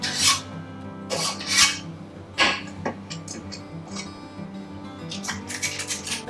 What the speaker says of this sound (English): So I have here my trusty cookie scoop.